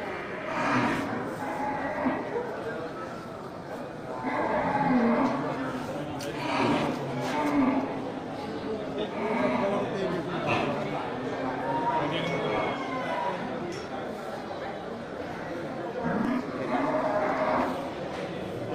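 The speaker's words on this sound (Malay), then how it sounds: "Ya, sapi-sapi super." Cattle mooing at a crowded livestock market, with several loud drawn-out moos from different animals over steady crowd noise and talk.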